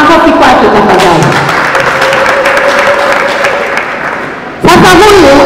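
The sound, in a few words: applause for a blood donation champion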